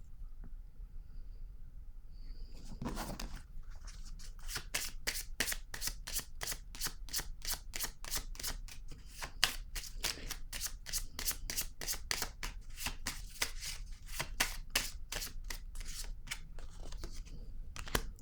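Tarot cards shuffled by hand in a long run of quick, crisp riffling flicks, steady and close, continuing for most of the time with no talk.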